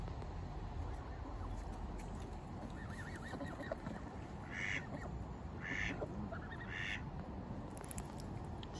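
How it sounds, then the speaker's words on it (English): A flock of young Canada geese being hand fed call to each other with short, soft honks and quacking notes, several spaced bursts over a steady, noisy outdoor background. "If you notice, they talk to each other by making little sounds."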